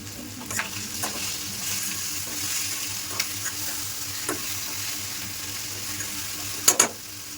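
A steady hiss of eggs sizzling in a hot pan, with a few light scrapes and a sharp burst of louder spattering near the end as water is added.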